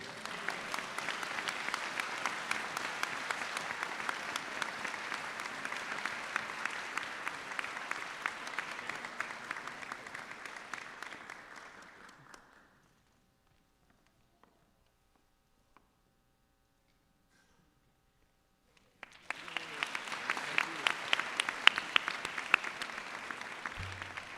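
Sustained audience applause for a Dean's Award recipient at an optometry college graduation ceremony, a dense steady wash of clapping that fades out and then returns after a stretch of near silence.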